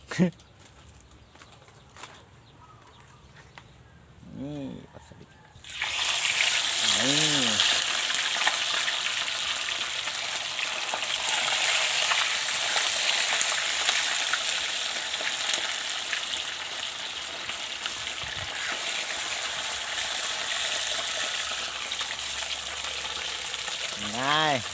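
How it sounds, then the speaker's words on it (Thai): After a quiet start with a few brief voices, loud, steady sizzling of fish frying in hot oil in a pan over a charcoal stove begins and continues without pause. "การทอดปลานะครับแนะนำนะครับ"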